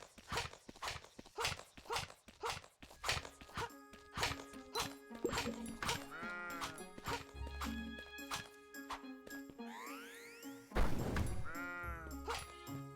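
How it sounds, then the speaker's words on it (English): Sheep bleat repeatedly in a video game (Under the Island), rising and falling calls over a busy mix of game music, tones and other animal-like sounds, fairly continuous and moderately loud. "We burned the wool off the sheep."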